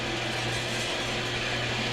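A horizontal bandsaw's blade frame lowers toward the workpiece, giving a continuous mechanical whir with a low motor hum and a faint ratcheting texture.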